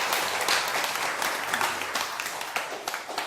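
Audience applause at a Buddhist talk with a monk answering questions, a steady wash of many hands clapping at moderate distance, fairly soft and continuous with no talk over it.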